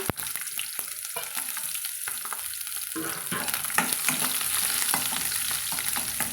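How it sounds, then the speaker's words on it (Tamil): Sliced shallots and garlic frying in hot oil with mustard seeds for a curry leaf kuzhambu tempering, a close crackling sizzle with stirring scrapes that builds and stays busy throughout. "இப்போது சின்ன வெங்காயமும் பூண்டும் வெட்டி வச்சுக்கிறோங்க அதையும் சேர்த்துக்கலாங்க"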